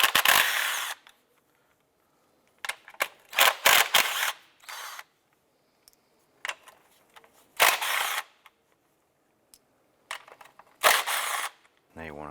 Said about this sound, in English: Using a 10mm socket, let's remove the nuts securing the coils.